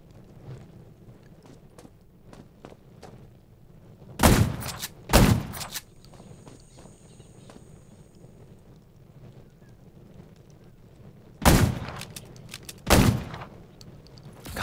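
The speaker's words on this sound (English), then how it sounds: "Gunshots will attract more zombies." In the zombie game Undawn, four heavy gunshots ring out in two pairs, each loud and booming, set against a steady low ambient rumble and quiet background.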